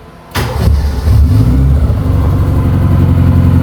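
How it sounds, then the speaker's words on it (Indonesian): A 1983 Suzuki Jimny's small stock engine starts abruptly and revs up loud and close, then settles into a steady, rough idle. "Suara khas mesin Suzuki Jimny dan Katana standarnya ya"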